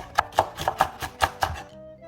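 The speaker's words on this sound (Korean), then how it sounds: "파프리카도 반 개 채썰어 줍니다." Half a bell pepper being sliced into thin strips with a knife on a board, about seven crisp, evenly spaced chops close by, then a brief quiet tail.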